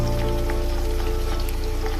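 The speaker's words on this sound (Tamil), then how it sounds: "இப்போது இஞ்சி பூண்டு பேஸ்ட்டு எண்ணெயில் கொஞ்சம் போட்டுருங்க" Ginger garlic paste frying in hot oil for biryani, giving a steady close sizzle with faint crackles under a low persistent hum.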